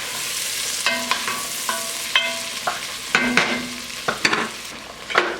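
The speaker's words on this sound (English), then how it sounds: "the onions, carrots, and celery are starting to soften up. Sugars are being released, browning in the butter." Onions, carrots and celery sauté in butter with a steady soft sizzle, broken by repeated clinking stirs of a utensil against the pan, close and clear with no talking.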